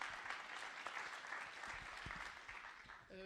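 Audience applause at a renewable energy conference session, a soft, fairly distant patter of clapping that holds steady, with a brief voice at the very end.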